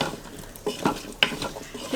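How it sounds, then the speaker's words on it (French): A spoon stirs a beef stew with bay leaf and carrots in a pot, giving several scraping, clinking strokes close by over a faint sizzle, with no voices. "J'ajoute le laurier, les carottes. Hop. On va mélanger."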